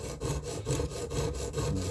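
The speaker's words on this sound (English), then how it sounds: "just going to do some scrubbing strokes" A knife blade scrubbed back and forth on a 100 grit sharpening stone during a Leatherman Rebar blade repair, giving steady, close gritty rasping strokes with a regular rhythm.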